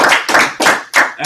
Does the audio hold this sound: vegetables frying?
no